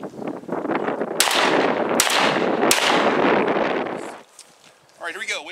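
A Beretta A300 Ultima Patrol 12 gauge shotgun fires Winchester Super Target shells outdoors, three loud sharp blasts about a second apart with rumbling echo between, wind noise throughout and a voice at the end.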